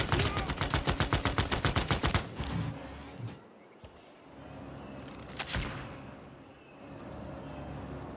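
Units firing on city walls in Civilization VI, opening with a rapid burst of loud machine-gun-like shots that stops after about two seconds, followed by scattered bangs and a rumbling battle din.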